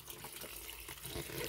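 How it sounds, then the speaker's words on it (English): A 10 kg Ramtons twin tub washing machine takes in water, giving a steady, close, unbroken rush of running water that fills the wash tub with no talking over it. "So I'm draining in water to make sure that the clothes absorb enough water."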